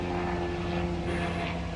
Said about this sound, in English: There's a helicopter passing me by.